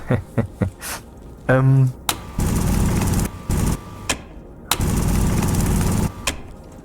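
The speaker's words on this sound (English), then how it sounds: "The pneumatic mining drill, in case someone doesn't know, is a very fast mining drill, but it is driven by gas." A gas-driven pneumatic mining drill in the space survival game Stationeers runs in two loud bursts of harsh, whirring mechanical noise, separated by pauses with short clicks and clunks.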